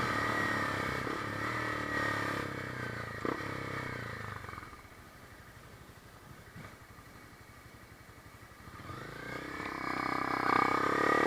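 Honda CB300F motorcycle fitted with a Yoshimura exhaust, its engine note steady and fairly loud up close, dipping to a lower idling rumble midway before rising again near the end, with no talking.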